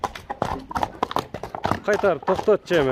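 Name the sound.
horse hooves clip-clopping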